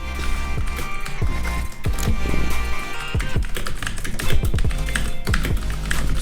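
Rapid computer keyboard typing with quick irregular key clatter running steadily throughout, close and fairly loud, over a continuous background of music.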